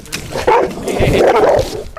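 Dog barking in a park during a tense confrontation, a few loud, close barks and yelps running together with shouting voices over about two seconds.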